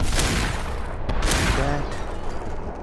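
Several sharp shotgun blasts fire in Superhot VR during the dark alley stage, two close together near the middle, ringing over a steady background wash of game noise.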